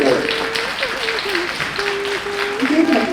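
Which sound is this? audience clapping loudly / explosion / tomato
audience clapping loudly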